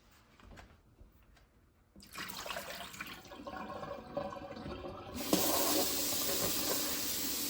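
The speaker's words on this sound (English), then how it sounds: "Now I'm gonna throw out this water." Water from a sweet potato sprouting container poured into a sink, first quiet trickles, then a steady splashing stream that strengthens into a fuller gush near the end.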